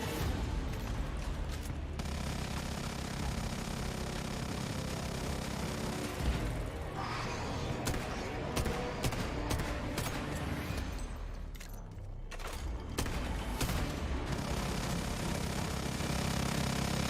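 Repeated gunfire blasts at a boss called the Foul Shadowhunter in a video game, a dense, continuous barrage of shots with short gaps near a reload, over a low rumbling background.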